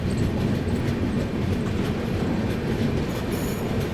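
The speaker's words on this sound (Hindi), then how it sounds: "new Delhi Lucknow Gomti express" Gomti Express on the New Delhi–Lucknow line rumbles along steadily, a loud continuous roar of wheels and carriage noise with faint rail squeal, close and unbroken throughout.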